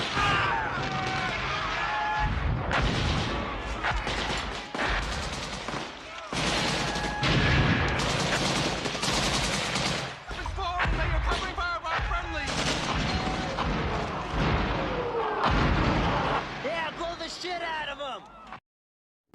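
A battle sound effect of Vietnamese troops attacking: dense, loud bursts of gunfire and explosive cracks crowd together continuously, with a voice speaking over the din before it cuts off abruptly.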